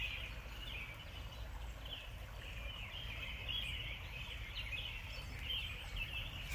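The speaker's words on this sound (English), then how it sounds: "There's about a whole bunch of robins just duking it out up here." A flock of robins squabbling and calling outdoors, their chattering and chirping overlapping into a continuous busy chorus at moderate distance over a low, steady background rumble.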